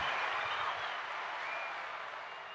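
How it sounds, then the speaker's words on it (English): Steady applause from a small audience greeting a guest on a casual podcast, a continuous dense wash of clapping that fades slightly toward the end. "Give a round of applause for him"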